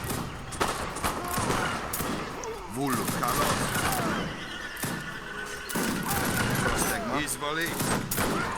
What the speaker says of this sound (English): just stop shooting my units